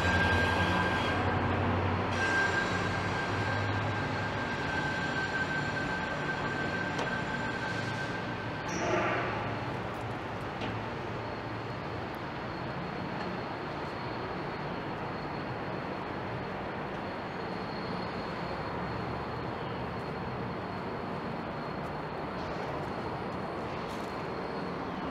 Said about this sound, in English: There's the GO train rolling in.